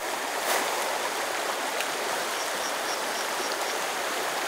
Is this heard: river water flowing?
yes